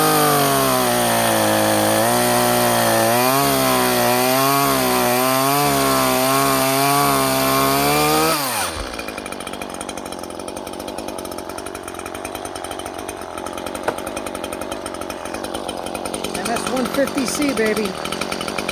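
A Stihl MS-150C chainsaw revs hard and bites through pine wood, its engine note wavering under load for several seconds before dropping abruptly to a low idle rumble with faint scraping.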